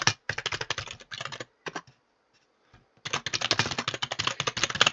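Rapid clacking of a computer keyboard being typed on, close and loud, in dense bursts broken by a pause of near silence before a longer stretch of fast typing.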